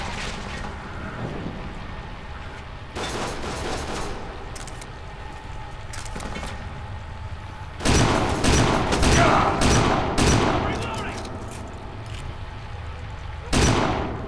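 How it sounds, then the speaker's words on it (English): Shotgun blasts and other gunfire in the video game Kane and Lynch 2: Dog Days, heavy booming shots in bursts over a continuous game soundtrack, a player talking at times. "Shotgun OP, please nerf."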